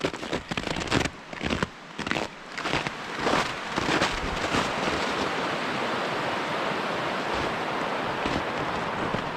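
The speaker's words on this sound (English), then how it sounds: "I'm gonna go check out this river here." A partly frozen river in the Arctic cold flows with a constant broad rushing wash, close and loud, with uneven gusty surges in the first few seconds before settling into a steady roar.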